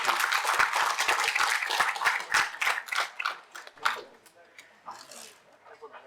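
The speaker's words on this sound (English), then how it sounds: "With a big round of applause, please welcome Dr. Debdoot" Audience applause welcomes a guest speaker at an AI school lecture in Nepal, dense clapping for about three seconds that thins into scattered claps and then fades.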